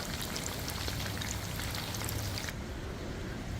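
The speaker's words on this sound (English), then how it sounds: "we have some rainy weather out here in New Jersey." Rain patters steadily in New Jersey in a dense, even hiss with scattered droplet taps; the high crackle suddenly thins out near the end.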